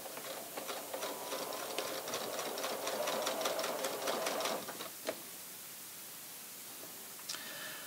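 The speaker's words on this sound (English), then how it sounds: "And now I'm going to sew up the other side." A sewing machine stitches a knit strip binding onto a V-neckline, running in a steady, rapid close-up rhythm for about five seconds before stopping, followed by faint handling clicks.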